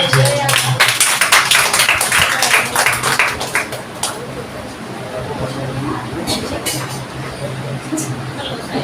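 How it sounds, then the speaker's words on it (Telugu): Congregation in a Baptist church clapping for Praveen during a Pentecost Sunday service; dense, fairly loud applause that thins out after a few seconds, with crowd murmur and a voice beneath it. "ఒకసారి చప్పట్లు కొడదాం."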